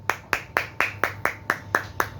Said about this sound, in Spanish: Dale, dale, dale alabanza de aplauso al que vive y reina por los siglos de los siglos.